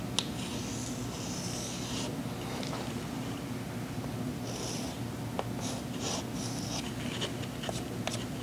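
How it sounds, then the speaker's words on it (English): Chalk on a board as numbers are written, quiet scratchy strokes and taps in short bursts over a low room hum, no speech. "I'm just going to write some numbers up."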